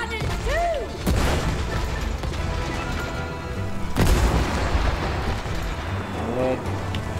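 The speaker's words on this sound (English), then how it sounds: "They've got cannons too!" Cannons boom repeatedly in the video game It Takes Two, with several heavy blasts amid constant rumbling game action and effects.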